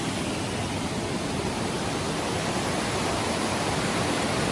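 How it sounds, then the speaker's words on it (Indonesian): Roaring waterfall near a river in a jungle valley in Sukabumi, heard as a steady, loud, broadband rushing roar with no break, growing slightly stronger as the source draws closer. "suaranya gemuruh gitu ya. Nah, ini kita makin mendekati ke posisi air terjun."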